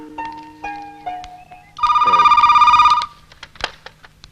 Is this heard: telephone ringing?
yes